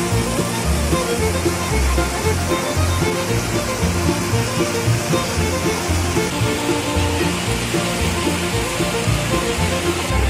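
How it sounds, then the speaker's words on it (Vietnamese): Pongour waterfall, about 50 m high and split into seven tiers, roars in a loud, unbroken wash of falling water that stays steady and close throughout. "Thác Bông Gua này cao khoảng 50 m và được chia thành 7 tầng thác đổ."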